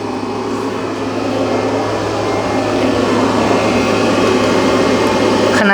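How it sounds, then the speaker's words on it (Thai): A 9000 BTU fixed-speed air conditioner compressor runs with a steady, loud mechanical drone and a constant low hum, unbroken from start to finish with no talking. "คอมเพรสเซอร์ทำงานนะครับ"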